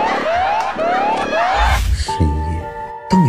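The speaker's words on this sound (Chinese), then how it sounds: "那警报器会响。" A shrill electronic alarm wails in quick rising sweeps, then shifts to a steady stepped tone with a brief thump between, loud and close for a few seconds.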